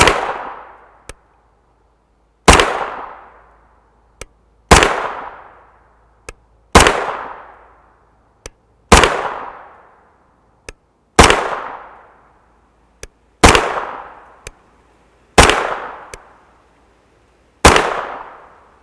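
Nine sharp, loud gunshots from 9x19mm 124-grain FMJ rounds ring out at a steady pace about two seconds apart, each with a short decaying echo and a faint click in between.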